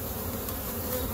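Carniolan honey bees buzzing at the hive on a morning with pollen coming in, a dense steady swarm drone heard close up with no pauses.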